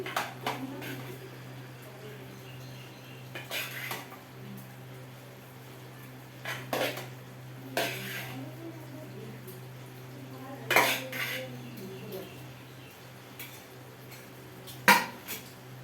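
Meat being stirred and mixed in a pan, with intermittent clinks and scrapes of a utensil against the metal at a few scattered moments over a steady low background hum, close and moderately loud.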